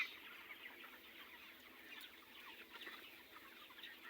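Broiler chickens about 20 days old, a flock of 5,000 in an upper poultry house, cluck and chatter in a steady, dense chorus with no voices over it.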